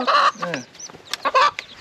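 Chickens cluck loudly and close by in a rural village yard, a few sharp rising squawks and calls in quick bursts with short gaps between them.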